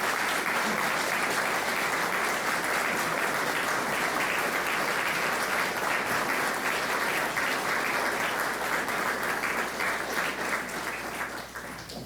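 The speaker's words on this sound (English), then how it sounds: "Could we please have a round of applause for Chief Warrant Officer Surridge?" A room of people at a local veterans' honouring ceremony gives a sustained round of applause for a Chief Warrant Officer, dense and steady clapping that holds for several seconds before tapering slightly at the end.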